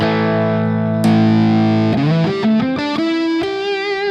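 Electric guitar through a fuzz pedal, a thick sustained distorted chord ringing out, then a run of separate buzzy notes played in quick succession, loud and close with no talking.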